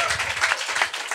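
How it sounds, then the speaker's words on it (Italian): Studio audience applauding guest Edoardo Leo on a podcast set, a short burst of dense clapping at moderate level with faint voices mixed in. "fategli un applauso"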